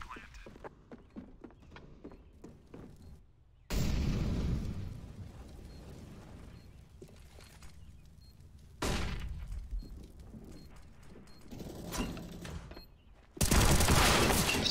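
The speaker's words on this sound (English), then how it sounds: "Deploying flashbang." Gunfire, a flashbang and explosions in CS:GO's Shattered Web operation: a spell of rapid clicking shots, then loud blasts and bursts of heavy fire hitting abruptly several times at close range.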